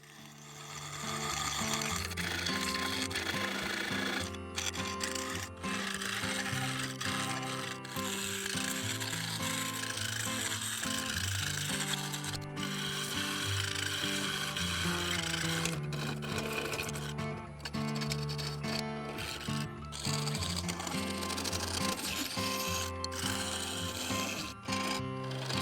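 A wood lathe turns a sapele workpiece, sped up to a dense, continuous whirring and grinding mechanical drone with rapid chattering cuts that never pause.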